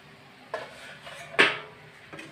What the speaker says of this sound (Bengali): তো এখন আমি উঠিয়ে দিচ্ছি ঢাকনাটা